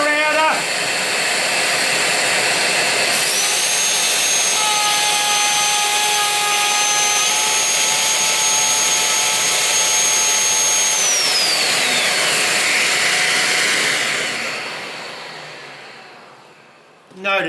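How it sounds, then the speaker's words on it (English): A wood router cutting timber with a dust extractor running alongside: a steady, loud broadband roar from the extraction, then a high motor whine that spins up and holds for several seconds before winding down, with the extraction continuing. "turn on the router"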